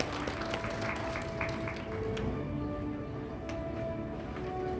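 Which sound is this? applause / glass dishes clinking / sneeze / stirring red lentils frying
applause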